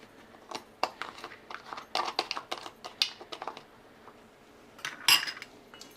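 Utensil scraping and clinking against a bowl while cupcake batter is mixed, a run of close, irregular clatters with a sharper knock near the end, no talking.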